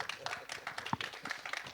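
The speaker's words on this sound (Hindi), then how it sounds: "तो एक बार इस बात के लिए तालियां हो जाए" Audience applause at a film trailer launch for Jatt and Juliet 3, a brief spell of scattered hand clapping from the crowd, fairly quiet and uneven, with one sharper clap standing out near the middle.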